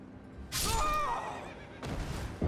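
A horse in the video game Elden Ring gives a single loud, wavering whinny, followed by softer rushing game sounds and a brief thump.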